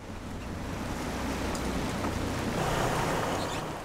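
Rough winter sea off Geomundo island, with heavy waves and strong wind buffeting a small fishing boat; a dense, continuous roar of surf and gusting wind noise, loud and close, with no voices.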